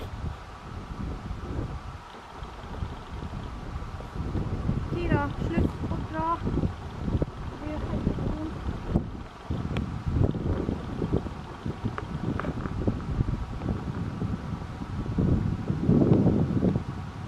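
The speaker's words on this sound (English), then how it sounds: "it was so windy on the top of the mountain" Strong wind sweeps across a mountain top, buffeting the microphone with heavy low rumbling gusts that swell and ease throughout, with voices and a few faint animal calls partly buried beneath the blasts.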